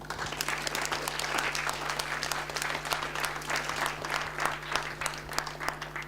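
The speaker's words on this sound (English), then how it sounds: "So let's have a round of applause, a big thank you for our panelists." Steady crowd applause for conference panelists, many hands clapping at once in a continuous, moderately distant roar with a faint low hum underneath.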